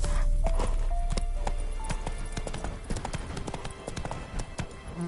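Horse hooves clip-clop at a walking pace in The Witcher 3, with a brief whinny and soft footfalls repeating irregularly over a quiet background.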